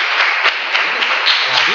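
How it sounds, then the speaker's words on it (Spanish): A church congregation applauding together, a dense, steady wash of clapping that holds at full volume throughout without a break. "Dele el aplauso al Señor."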